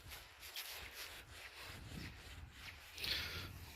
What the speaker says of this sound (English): Just rub it on my trouser.